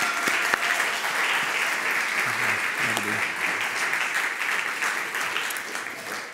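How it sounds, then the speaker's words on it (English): A church congregation applauds a couple, steady sustained clapping that fills the room with faint murmuring underneath. "let's give the Oldhams one more round of applause."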